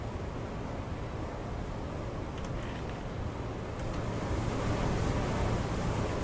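Choppy North Atlantic sea in a fishing game, a low, steady churn of waves and wind against a moving boat that gradually grows a little louder.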